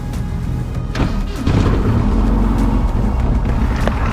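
RV-14 light aircraft propeller engine cranking and catching, a rough uneven rumble with sputtering pops that jumps louder and settles into a steady, close running roar.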